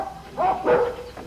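Stray dogs from the pound bark twice in quick succession at a moderate distance, a short pair of yappy barks with no talk over them.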